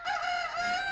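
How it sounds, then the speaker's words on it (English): In the video game Alundra, a rooster crows, a single clear, drawn-out tonal call carrying on its own without talk over it. "a cock crows in the distance"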